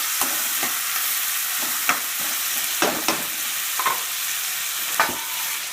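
Potatoes fry in ghee in a pan with a constant close sizzle, broken by a few sharp scrapes and taps of a stirring spoon.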